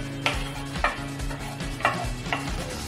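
Pickle ingredients roast in a dry pan as a spoon stirs them, a close scraping stir with four distinct knocks against the pan over a low steady hum, no voices.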